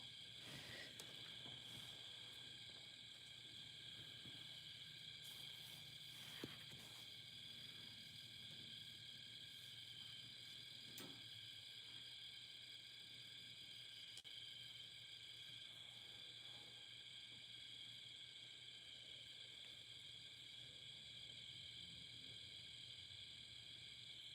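Crickets chirp in a faint, steady, unbroken trill that holds for the whole stretch with no voices over it.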